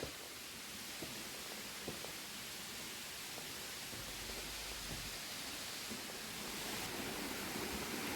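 A natural waterfall in Sweden gives off a steady, dense rush of falling water that stays even throughout, with no voices.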